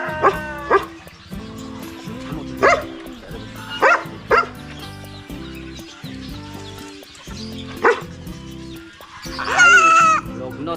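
Goats bleating in repeated short, loud bursts at feeding time on a farm, with a dog barking in the mix and people talking over the animal calls throughout.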